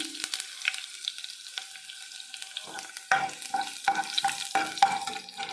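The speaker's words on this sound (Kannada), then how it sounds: "ಸಾಸಿವೆ ಮತ್ತು ಜೀರಿಗೆ ಚಟಪಟ ಅಂದೈತಿ." Mustard and cumin seeds splutter in hot oil for a brinjal palya, a steady close sizzle broken by sharp crackling pops that cluster in the second half.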